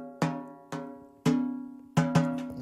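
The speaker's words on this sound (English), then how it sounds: "Let's listen to the bottom head." The bottom head of a PDP M5 maple drum struck five times at an uneven pace, each hit a clear pitched tone with a bright attack and a ringing decay, close and alone.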